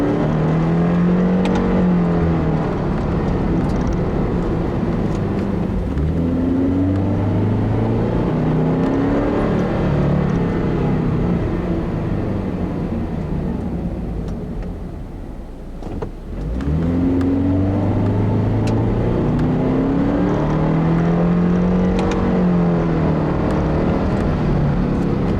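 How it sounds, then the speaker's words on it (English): A 2014 Subaru Impreza driven along a back road, its engine steadily revving up and down through gear changes with road and wind noise, easing off briefly midway before pulling hard again; no talking. "handling-wise on this back road here, I'm quite impressed with this new Impreza and what it can actually do."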